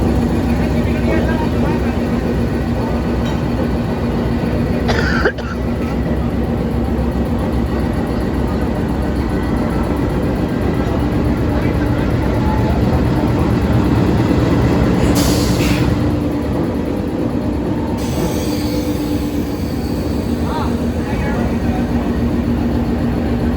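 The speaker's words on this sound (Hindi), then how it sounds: "लोकोमोटिव हमारा कपल हो चुका है।" A Pakistan Railways locomotive coupled to the Thar Desert Safari Train, a loud steady rail rumble with a couple of sharp metallic clanks standing out from the continuous drone.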